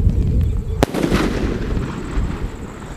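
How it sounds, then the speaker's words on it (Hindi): A Malinga sky shot Diwali firework bursts with one sharp, loud bang, then a crackling, hissing tail trails off over a rumbling outdoor background. "तुम लगाओ आग और मैं भागता हूँ दूर और ये लगाई मलिंगा ना आग"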